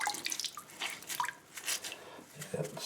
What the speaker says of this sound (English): I'm going to sponge out all the water I can sponge out.